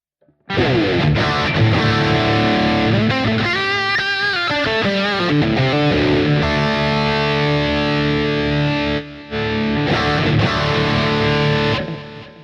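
An electric guitar plays through a ping pong delay, with chords and notes echoing back and forth, loud and sustained over roughly twelve seconds with one brief drop near the end.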